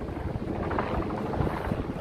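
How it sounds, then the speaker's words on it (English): Wind buffets the open flight deck of the Intrepid Sea, Air & Space Museum aircraft carrier in New York City, a steady, loud, broadband rush and rumble that fills the whole stretch without pause. "it's windy up here"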